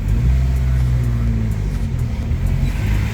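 A Jeep's engine idles and rumbles steadily while the vehicle is put in reverse, a continuous loud low drone heard up close from inside the cab, with no talking.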